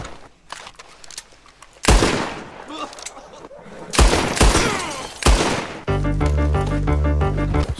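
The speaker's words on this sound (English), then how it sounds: "Some guy shot at me." Gunfire in the Red Dead Redemption video game: several sharp, loud shots crack out in separate bursts, followed by a dense rattling musical or mechanical stretch at the end.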